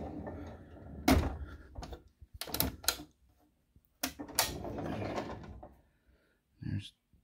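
Card storage drawers in a fireproof storage unit slide open and shut several times, giving short wooden-metal scrapes and thumps separated by pauses.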